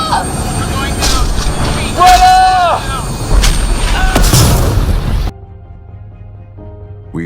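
In a space video game, a shuttle crashes after a lightning strike. Loud booming impacts and rumbling sound alongside whining, sweeping tones, then cut abruptly to a quiet hum. A voice is heard during the crash.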